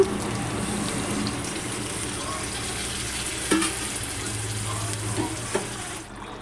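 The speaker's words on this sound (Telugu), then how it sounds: "వాటర్ అయితే పోసుకుంటున్నాను" Water pours steadily into a simmering pot of goat tripe curry, giving a continuous rushing hiss with a couple of brief clinks near the end.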